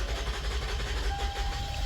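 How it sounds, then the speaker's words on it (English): Toyota Highlander engine running in a rough, uneven idle, a steady low rumble with slight fluctuations and a faint whine, heard close with no talking. "Let me try and start it again."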